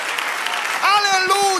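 A church congregation claps and cheers during a Spanish-language worship service, a dense wash of applause that swells as a voice rises in sustained, excited shouting over it.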